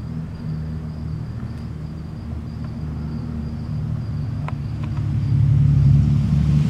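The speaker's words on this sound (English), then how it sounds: "Damn car." A car passing on a road while onlookers wait for a Triumph motorcycle at a corner, a low engine rumble that swells and grows louder toward the end, with faint insect chirping in the background and no talk.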